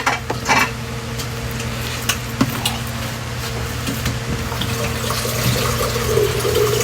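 Water is poured into a pan of sisig, a steady hissing, bubbling wash that swells toward the end, with a few clinks and knocks of utensils near the start, close and fairly loud.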